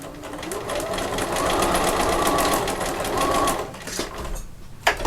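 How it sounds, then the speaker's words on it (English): A sewing machine runs steadily close by while stitching a seam on a fabric sewing machine cover, its whirring needle rhythm shifting briefly during a back stitch before slowing to a stop. "Done a back stitch, I've stopped, done a back stitch."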